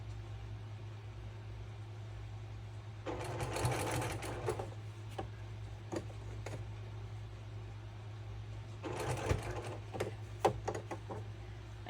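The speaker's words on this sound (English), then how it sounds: "Just sew through it." A sewing machine stitches through a quilt seam on a double wedding ring quilt, running in two steady bursts of rapid needle chatter over a constant low motor hum, with short clicks between runs.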